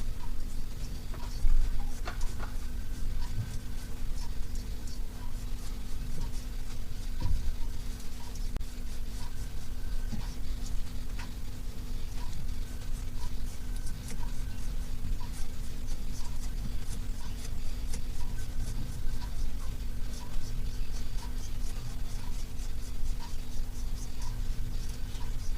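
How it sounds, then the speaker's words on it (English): Steady close scratching and rubbing as panel line details are worked into an Airfix Me 109 model kit, a continuous soft friction with faint ticks over a low background hum. "I'll just get those panel details rubbed in."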